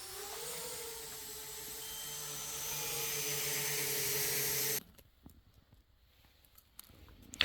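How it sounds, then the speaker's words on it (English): A DJI Mini 2 drone flying on 3D-printed toroidal propellers gives a steady, rising high-pitched whine and hum up close, which drops out suddenly partway, leaving faint handling noise and a few soft knocks. "It's a DJI Mini 2 which is flying with that toroidal propeller."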